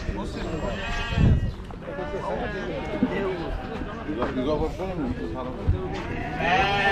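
Sheep bleat at the Uzynagash livestock market, with several bleats mixed among busy conversation and crowd noise nearby.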